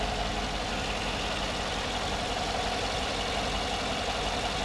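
A 2014 Chevy Silverado Z71 with a 5.3 liter V8 idles steadily, a constant low mechanical hum and rumble with no revving or voices.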